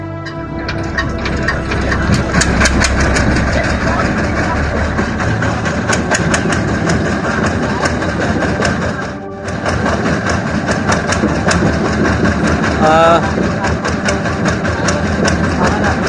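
A boat engine on the Meghna river runs as a loud, close, steady mechanical drone. Its rumble dips briefly once before carrying on at full strength.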